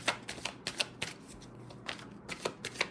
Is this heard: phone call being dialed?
no